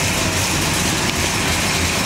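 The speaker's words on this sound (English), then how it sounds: "Great sounding old Coronet. Engine runs very strong." Engine of a 1965 Dodge Coronet running steadily, a loud continuous low rumble with a broad noisy hiss on top, close by and with no talking.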